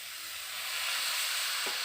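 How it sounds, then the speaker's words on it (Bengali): A splash of water hitting a hot kadai of frying spice masala with potatoes and pointed gourd sets off a steady, loud, close sizzling hiss that holds for the whole moment, with no talking. "মশলাটা কড়াই লেগে গেছে অল্প করে একটু জল দিয়ে দেব"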